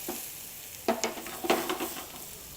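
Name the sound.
stirring spices in a cooking pot for biryani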